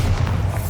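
A blasting spell detonates in Hogwarts Legacy, a video game, as one short, dense, low boom that fills the moment.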